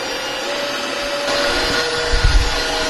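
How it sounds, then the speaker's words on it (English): An electric mixer whips egg whites, giving a steady, close whirring hum that thickens and grows louder toward the end, with no voices. "start whipping up your egg whites"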